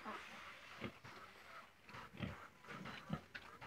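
Several short, rough grunts from a six-month-old pig on a pig farm in Assam come in uneven bursts against a steady background murmur, fairly close and moderately loud.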